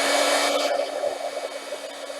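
Heat embossing tool blowing hot air over a craft piece, a loud steady whooshing roar with a fixed motor whine, close and continuous with no talking.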